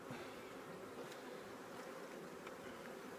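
Honey bees swarm around an open hive during queen rearing, a dense continuous buzzing drone that stays even and fairly faint throughout, with no voices.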